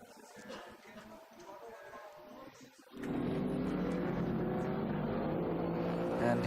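Race car at the ESET Cup endurance race in Brno, quiet at first, then a loud engine roar swells in near the finish line and holds steady as the car crosses, with faint commentary voices underneath.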